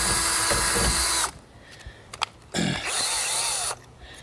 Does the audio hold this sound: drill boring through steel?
yes